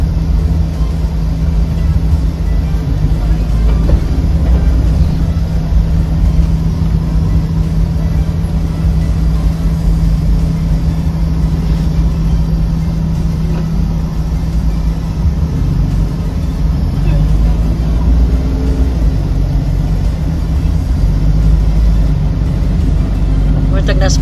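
A ferry engine drones steadily on the ride to Lantau, a loud low rumble that continues without a break while voices talk over it.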